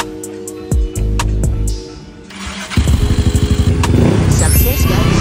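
Yamaha Mio 125 scooter with 61mm big valves and an AFR adjuster, cranking with a few clicks and whirs before catching and settling into a loud, rapid, rhythmic idle putter, close by.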